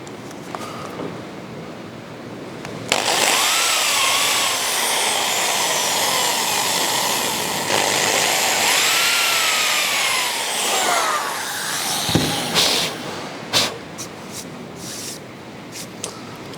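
A router bit cuts 45-degree notches into wood for a French cleat cord holder, giving a loud, close, steady roaring whine for about nine seconds with slight pitch dips under load, then a few short bursts as it spins down and restarts.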